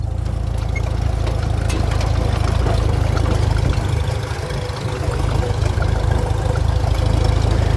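Farmall M tractor engine running in road gear while driving, a loud, steady low-pitched chugging drone with constant rhythmic pulsing, close and alone throughout.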